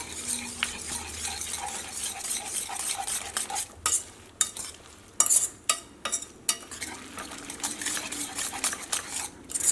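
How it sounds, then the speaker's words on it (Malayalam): A utensil scrapes and clicks against a pan while a cabbage and egg mixture is stirred, with irregular sharp knocks over a low steady background hum. "ഇതെല്ലാം കൂടിയിട്ട് നന്നായിട്ടൊന്ന് മിക്സ് ചെയ്യുക"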